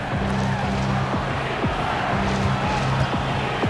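Loud arena crowd roaring and cheering steadily throughout an NBA 2K17 basketball game, with squeaks and bounces from the court beneath the dense noise.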